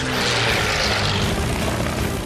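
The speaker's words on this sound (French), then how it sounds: "Son moteur Merlin se déchaîne dans un rugissement." P-51 Mustang with its Merlin engine roaring in a dive, a dense, steady, loud propeller drone filling the whole clip without a break or any voice.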